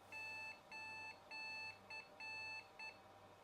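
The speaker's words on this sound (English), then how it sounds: "We are getting some errors on the screen, together with the beautiful piezo speaker sound" A Philips P3230 286 PC's piezo speaker beeps at boot, sounding six clear electronic tones of uneven length: four longer pulses and two short ones, steady and fairly close over a low background hum.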